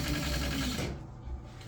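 Sewing machine stitching vinyl seat upholstery for a Triumph GT6, a steady fast mechanical whir close up that stops abruptly partway through.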